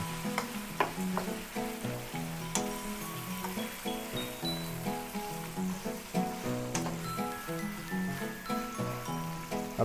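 Boneless chicken pieces fry in hot oil in a kadai, giving a steady close sizzle with crackles and occasional light clinks of stirring.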